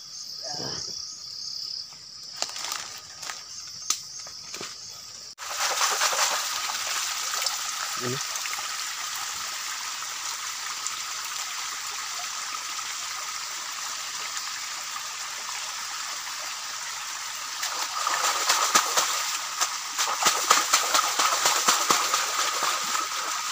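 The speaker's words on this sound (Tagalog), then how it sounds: "Hugasan pa yan ni pare." Water runs steadily while lingaton shellfish are washed, a continuous bright hiss starting after a few seconds of quieter clattering, with people talking at times.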